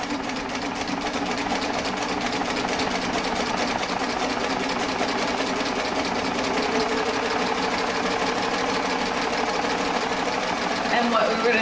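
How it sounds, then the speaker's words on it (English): Baby Lock Triumph serger finishing the edges of a holiday fabric banner, humming at a steady, consistent speed throughout, close and continuous. "I'm going to put my thing under the foot, and you want to sew at a consistent speed"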